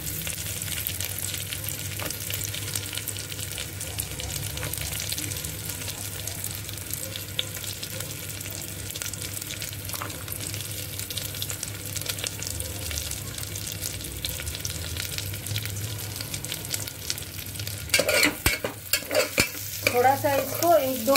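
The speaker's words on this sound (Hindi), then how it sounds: "थोड़ा सा इसको 1-2 मिनट सौते करेंगे।" Onion, garlic and ginger sauté in a pan for spinach-tomato soup, making a steady close sizzle with occasional stirring scrapes that grow louder and busier toward the end. No one speaks.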